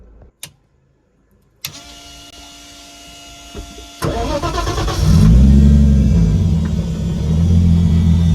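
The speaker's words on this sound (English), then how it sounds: "Starts up, no throttle input needed." A car running a Link G4 engine management system cranks and catches on its own, then settles into a loud, steady idle rumble close by. It starts after some brief clicks and electrical whirring.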